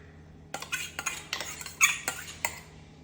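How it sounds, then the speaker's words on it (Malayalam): A spoon stirs ground coconut-curd paste into chopped banana stem in a pan, making a series of soft, close clinks and scrapes in an irregular rhythm over a quiet background. "എന്നിട്ട് നല്ലോണം മിക്സ് ചെയ്തെടുക്കുക"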